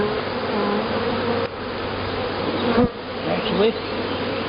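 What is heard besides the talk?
honey bees buzzing in front of the hive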